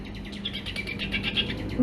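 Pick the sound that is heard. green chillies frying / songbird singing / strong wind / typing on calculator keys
songbird singing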